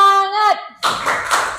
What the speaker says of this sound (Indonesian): Kalau masih semangat kita akan tepuk semangat dulu.